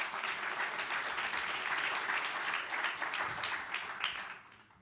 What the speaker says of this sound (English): please give them a round of applause just to motivate them